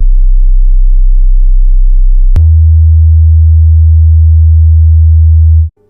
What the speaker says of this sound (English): This is what the hum sounds like.